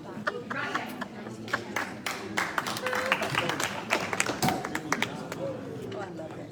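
Scattered audience applause at a Texas plein air painting artist announcement, irregular individual claps and taps mixed with chatter and voices nearby, uneven and fairly light.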